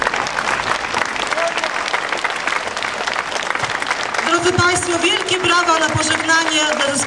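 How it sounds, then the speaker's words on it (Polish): Crowd applause at an outdoor folk festival parade send-off, dense clapping and cheering throughout, with band music and sustained tones rising over the clapping in the second half. "wielkie brawa na pożegnanie"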